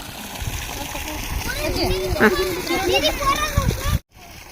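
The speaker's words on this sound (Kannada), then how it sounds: "ನೋಡಿ ನೀರು ಹೆಂಗೆ ಬಿದ್ದೈತಿ" Water gushes and splashes steadily from a newly drilled borewell, a continuous rushing spray that stops abruptly near the end, with voices talking over it throughout.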